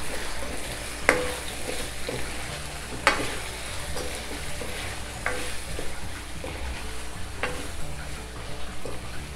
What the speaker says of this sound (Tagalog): At haluin natin.